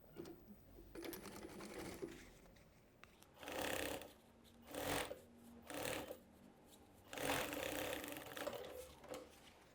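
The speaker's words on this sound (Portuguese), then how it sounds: "Posiciono agora o meu forro e costuro também." A sewing machine stitches the lining of a small backpack in a handful of short runs, each whirring burst followed by a brief pause, fairly close and quiet.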